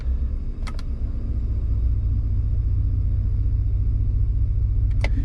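A deep, loud Gen 2 Ford Raptor truck engine rumbles steadily with its QTP exhaust cutouts opened, idling with a throaty low drone and a couple of faint clicks.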